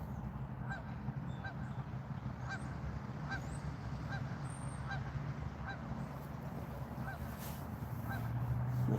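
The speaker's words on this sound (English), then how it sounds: "There's a Canada goose on the other side." A Canada goose honks repeatedly at a steady pace, the calls coming from some distance across open water over a constant outdoor background hum.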